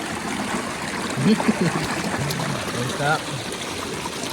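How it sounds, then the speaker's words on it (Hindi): Water flows steadily along a rocky, marble-strewn river at Amlong near the Kolonga irrigation channel, a continuous broadband rush with someone talking briefly over it. "इस तरफ पानी यहाँ पर बह रहा हुआ"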